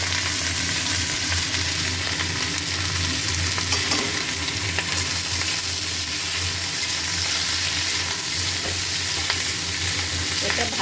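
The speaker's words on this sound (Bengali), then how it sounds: "আলু পেঁয়াজ কলি ভালো করে ভাজা করব।" Potatoes and spring onions frying in an open pan with onions, a steady close sizzle with stirring scrapes throughout, loud and continuous with no voices.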